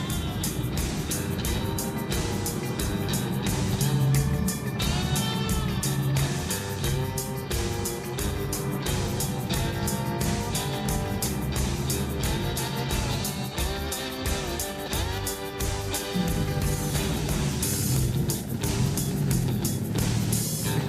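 A Pontiac cruising along a highway, its engine and road roar steady and loud throughout with constant wind and tire noise.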